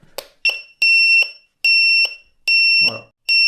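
Bicycle turn signal buzzer beeping in a steady on-off rhythm, loud and close, with four sustained electronic tones between short clicks.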